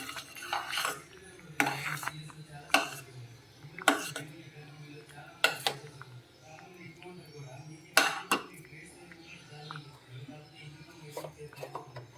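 Wheat rava prasadam being stirred in a pan, in Annavaram prasadam style, with cardamom powder mixed in; a spoon scrapes and clinks against the metal pan in irregular bursts, with a faint voice low in the background.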